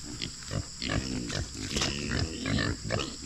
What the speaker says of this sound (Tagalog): Papakain po muna tayo ng baboy.